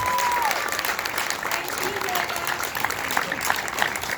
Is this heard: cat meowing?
no